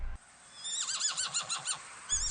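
A rare Ojibwe pony neighs in a clear, wavering whinny lasting over a second, close and alone, followed by a brief snort.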